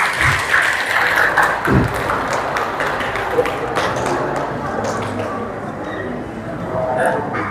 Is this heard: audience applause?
yes